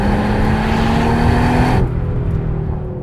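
A 2022 Audi RS3 engine roars loud and steady while the car accelerates at speed, a dense, continuous drone that drops slightly in intensity near the end, likely an upshift or lift-off.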